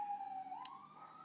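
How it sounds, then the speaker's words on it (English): A distant emergency siren wails in the background, a faint, steady tone that dips and then slowly rises again, with a brief soft click partway through. "I don't know if you're hearing that siren in the background"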